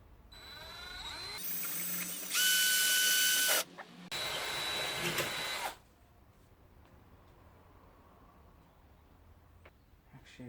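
A power drill boring through a BMW E30 M3 rear arch body panel: two loud, close bursts of high-pitched whirring, each a second or two long, then quieter handling noise.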